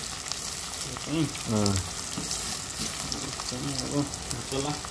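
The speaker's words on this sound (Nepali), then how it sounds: "मसला बन्दैछ बिरानीको लागि" Masala spices frying for chicken biryani, a continuous loud sizzle with stirring scrapes, while someone talks intermittently over the cooking.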